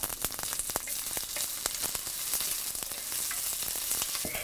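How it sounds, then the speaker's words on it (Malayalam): Ginger, garlic and curry leaves sautéing in a hot pan with oil, a steady bright sizzle punctuated by sharp crackles and pops, close and unbroken, with no voices. "ഇഞ്ചി, വെളുത്തുള്ളി, 3 തണ്ട് കറിവേപ്പില എന്നിവയിട്ട് വഴറ്റുക."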